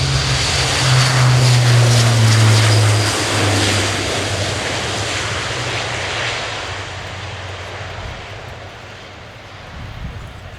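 A German Air Force A400M Atlas turboprop transport takes off at an air display, its loud propeller roar rising in pitch, then fading as it climbs away.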